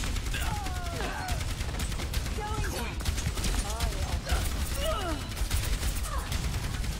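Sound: gunfire in the video game Overwatch

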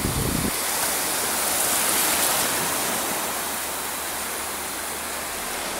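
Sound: sea waves at the seaside

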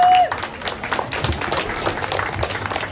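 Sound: round of applause for the church custodial staff

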